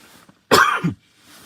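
A single harsh cough from someone with long COVID, close and loud, with a short throaty tail, set against near silence.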